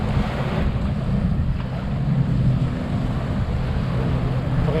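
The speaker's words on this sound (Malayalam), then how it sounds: "സ്കൂട്ടർ ടൈപ്പുള്ള ബോട്ടുകളാണിത്. ഇങ്ങനെ റെന്റ് ചെയ്ത് പോകും." A scooter-type rental speed boat (jet ski) at Khorfakan beach, heard as a steady low engine drone mixed with surf and wind noise, continuous throughout with no talking.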